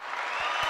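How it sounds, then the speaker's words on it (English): Studio applause greets a guest joining a podcast, a brief steady wash of clapping that holds at an even level for under a second. "I love the applause."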